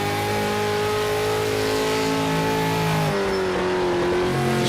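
A V8 supercar engine in the PMR racing video game drones at a steady high pitch, loud and continuous, its tone sliding down partway through as the car shifts or eases off, with no talk over it.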